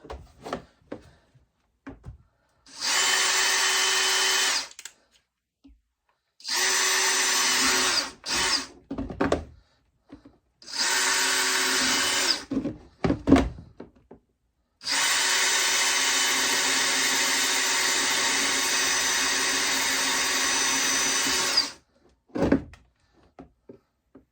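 Power drill boring holes into the bottom of a bucket for a honey extracting setup, four loud whirring bursts separated by pauses with small clicks and handling noises, the last burst the longest.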